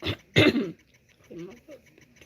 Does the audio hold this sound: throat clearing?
yes